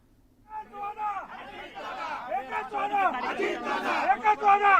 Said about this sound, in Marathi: आपण नाशिकमध्ये ह्या कार्यकर्त्यांचा जल्लोष जो आहे तो अद्यापही सुरू आहे